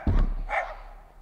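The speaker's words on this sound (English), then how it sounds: "The amazing neighbors barking dogs." A neighbor's dog gives a single short bark, fairly close, on land being cleared for a house with a tractor nearby.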